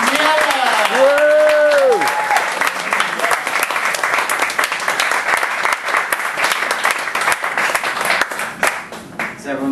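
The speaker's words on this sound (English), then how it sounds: "So please start the clapping, start the applause, ladies and gentlemen." A comedy show audience breaks into sustained applause and clapping that fills the room at high volume, with a loud voice speaking over it at the start before the clapping carries on alone.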